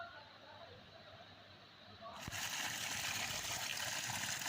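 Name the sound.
cold spring water flowing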